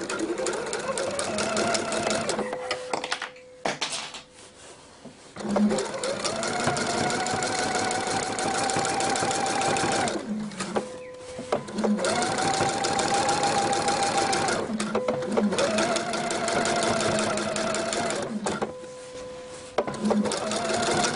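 A sewing machine with its walking foot engaged sews a rib-knit V-neckline. It runs in several long stretches of steady whirring, broken by brief stops and small clicks, while a person talks over it.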